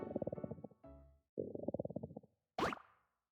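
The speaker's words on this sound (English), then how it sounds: "You hear her stomach growling, she must have fainted from hunger." Hungry stomach growling in a video game, a series of gurgling rumbles in short bursts with pauses between, fairly quiet and close, ending with a brief sharp plop.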